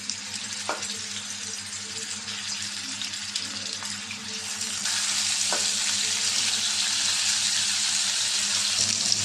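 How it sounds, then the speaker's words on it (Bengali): Pangas fish sizzles steadily in hot oil in a pan, a continuous close frying hiss that grows louder partway through, with a few faint clinks. "তেল দিয়ে দিলাম তেলটা গরম হয়ে গেছে মাছটা দিয়ে দিলাম"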